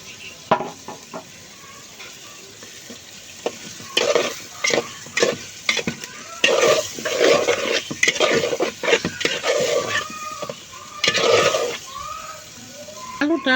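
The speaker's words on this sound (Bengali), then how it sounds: "এই যে এখন আলু দিয়ে দিতেছি।" Potato pieces stirred into a spiced masala in a pan: repeated scraping and clattering strokes of a spoon over a steady sizzle, growing busier midway, with a voice speaking now and then.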